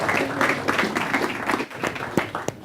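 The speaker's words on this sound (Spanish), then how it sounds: "Fuerte aplauso para ellos" A conference audience claps for a panel, a dense but moderate round of applause from a crowd that thins into scattered individual claps.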